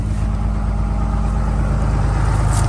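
A diesel truck engine idles steadily while warming up, giving a loud, close, even rumble with a constant throb that holds without change.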